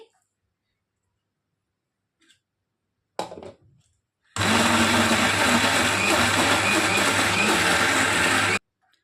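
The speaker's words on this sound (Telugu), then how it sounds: "మిక్సీ పట్టేటప్పుడే నేను ఇందులోనికి ఫ్రెష్ కొత్తిమీరను కూడా వేసేసుకుంటున్నాను చూడండి" A mixie grinder whirs loudly and steadily as it blends soaked black chana into dosa batter with fresh coriander, starting after a short clatter and a brief silence, then stopping abruptly.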